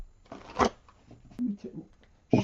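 Tarot cards shuffled in quick riffling bursts, one sharp burst early and another at the end, with a soft voice murmuring briefly between them.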